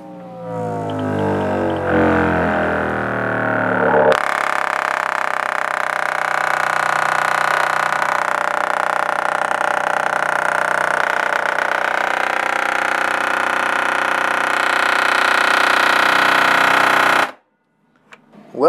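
An antique Sansui woofer is driven past its limits: a low tonal hum jumps into a loud, harsh, buzzing rattle that holds steadily for over ten seconds before cutting off abruptly.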